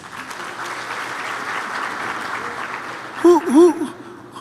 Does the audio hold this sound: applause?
yes